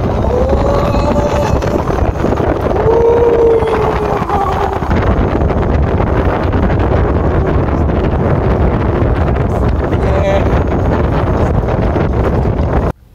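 Loud wind roars and buffets a microphone continuously, with a deep rumble and a faint rising whine underneath as a vehicle speeds along.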